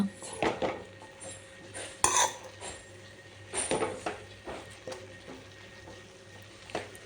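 Drumstick leaf stir-fry is stirred with salt in a pan: a spoon scrapes and clinks against the metal in irregular bursts, fairly quiet and close, with no talking.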